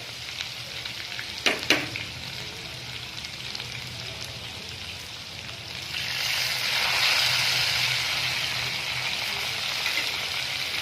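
Onions and garlic fry in a pan until brown, a soft steady sizzle with two brief knocks near the start, then the frying swells louder and hisses on evenly for several seconds.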